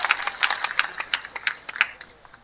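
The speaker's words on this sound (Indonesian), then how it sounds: "Tepuk tangan untuk Mas Arif." Audience applause for a performer at an evening religious gathering, a scattered patter of claps with distinct irregular peaks, moderately loud and fairly close, fading toward the end.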